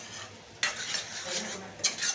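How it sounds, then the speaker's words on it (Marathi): Spices roast in a pan as a spoon stirs them for kata vada curry, two sharp metallic scrapes standing out over a low sizzle, close up and without voices. "मसाले चांगले भाजून घ्यायचे"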